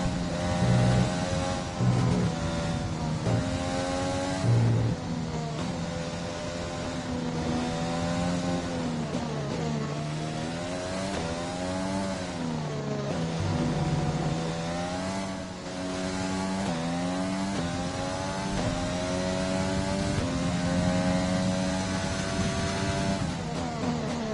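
An F1 2020 race car in a USA free practice session on its fifth and final lap. The engine screams close and loud, revving up and down through repeated gear changes for the whole stretch.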